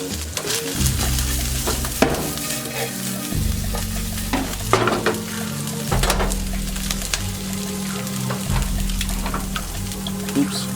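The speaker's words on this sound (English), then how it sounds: "You can go ahead and add the Brussels sprouts in now." Brussels sprouts fry in a pan with a steady, loud sizzle that runs throughout, broken by scraping stirs and clatters. A low hum sits underneath, and a voice may be faintly present.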